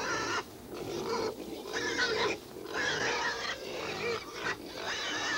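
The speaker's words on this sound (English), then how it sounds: "Pigs have always been a favorite animal of mine." Pigs oink and grunt in a run of closely spaced, nasal bursts with brief pauses between them. They sound moderately near and are heard without talk.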